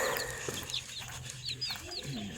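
A hen clucks with a brood of young chicks nearby, short chirpy peeps and soft clucks scattered over steady background noise, fairly close.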